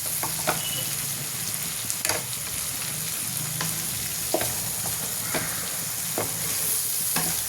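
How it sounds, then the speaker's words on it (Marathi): Goat brain (bheja) cooked dry in a pan and stirred continuously at steady heat, giving a constant loud sizzle with regular sharp scrapes and taps of the spatula against the pan. "हलवतच राहायचं हे आपलं सुटे सुटे भिजाचे सुटे सुटे भाग होईपर्यंत हलवतच राहतो"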